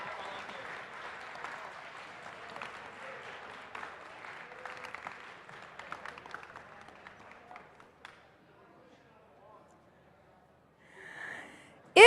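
Audience applause at an FTC robotics league tournament in a school venue, steady clapping for several seconds that thins into scattered claps and fades to near silence before a sudden loud sound at the very end.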